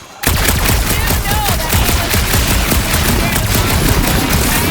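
Rapid bursts of gunfire from the Guardians of the Galaxy video game, a loud, dense fusillade of repeated shots rattling continuously for several seconds with nothing else over it.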